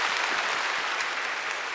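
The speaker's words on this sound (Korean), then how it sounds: "우리 인사하실 때 우리 박수로 축복해 주시길 바랍니다." A church congregation applauds newly baptized children during a Sunday worship service, a dense, even burst of many hands clapping that fills the room.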